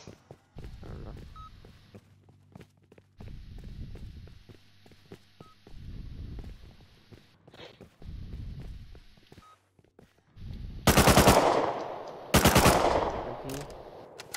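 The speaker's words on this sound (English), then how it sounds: "That's me shooting." Two loud, sharp bursts of automatic gunfire from the player's gun in the video game Rust, close and back to back near the end, after a stretch of quieter footsteps and movement noise.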